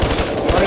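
Rapid gunfire from the video game Payday 2, a dense, continuous burst of shots with low thumping pulses, loud and close throughout the short moment.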